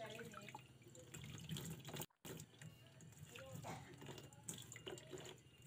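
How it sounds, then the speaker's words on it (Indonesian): Tap water running steadily into the tub of a twin-tub washing machine during a seal leak check, a continuous splashing flow with a brief gap, heard under a man's speech. "setelah tertutup kita isi air jangan terlalu banyak ya"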